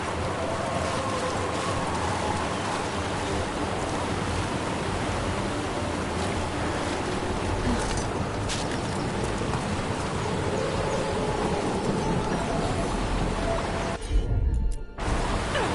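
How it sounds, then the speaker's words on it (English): Waterfalls in the video game Dragon Age: The Veilguard give off a steady, broad rushing roar that fills the scene continuously, with a short louder disturbance near the end. "Look at those waterfalls."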